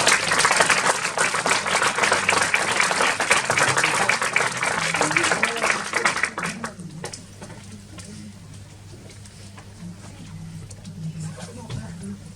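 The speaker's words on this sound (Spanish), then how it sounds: "Fuerte un aplauso." An audience at a psychology master's and doctoral graduate program event at USAL applauds loudly for about six seconds, then the clapping thins to scattered claps, with some talking underneath.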